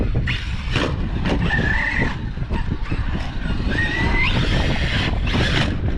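An ARRMA Kraton 4S RC stunt truck tearing around outdoors, its electric motor whining and tires skidding and scrabbling on the ground in repeated bursts, close and loud.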